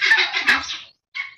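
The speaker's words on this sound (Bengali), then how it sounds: "না না মুরগির আওয়াজ" Chickens on a farm in the Sundarbans clucking, a close, loud run of calls followed by a brief pause and one more cluck, no other sounds.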